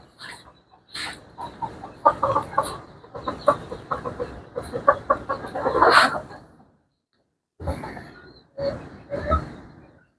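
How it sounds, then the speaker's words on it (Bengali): Native hens and roosters on a farm cluck and squawk in loud, close, overlapping bursts, with a brief quiet gap before the clucking resumes. "এই দেখেন আমার মুরগিগুলো দেখেন"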